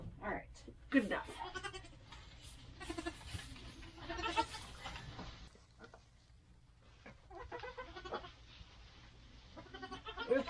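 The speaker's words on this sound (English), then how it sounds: "Oh my God, goats." Goats bleat repeatedly on a farm during cold weather prep, close and fairly loud, with a person talking among them and a steady low hum underneath.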